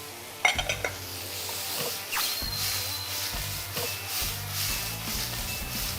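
Seafood goes into a wok with a little soy sauce for a ramen-based Korean jjamppong. A few clanks of metal are followed by a steady sizzle and stirring scrapes close by, with no talking.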